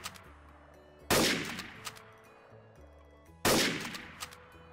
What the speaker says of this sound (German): Warum schießt du auf mich, Ricky?